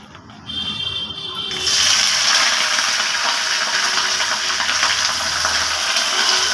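A loud, steady sizzle of coconut chutney tempering ingredients hitting hot oil starts abruptly after a quieter moment and keeps crackling close by.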